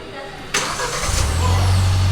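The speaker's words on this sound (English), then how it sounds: "You can switch on the car using the remote." Kia Seltos engine started by remote, a sudden crank followed by the engine catching and settling into a steady low idle, heard up close.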